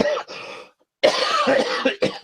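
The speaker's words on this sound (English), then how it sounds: "I have such a bad cough" Two harsh, loud coughs close up, a short one and then a longer rasping fit after a brief silence.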